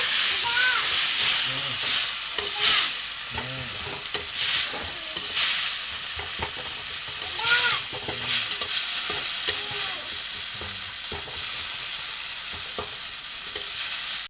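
Spice paste (masala) for a potato-and-cabbage curry sizzles in a pan while being stirred, a steady frying hiss broken by repeated scraping strokes, with a voice speaking faintly under it.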